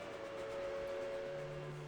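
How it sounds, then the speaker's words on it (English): A steam train whistle from the video game Reverse: 1999 sounds as a steady, sustained tone that holds for about two seconds. It is fairly faint and heard alone, with no one talking. "raising along with a loud whistle. It's the train!"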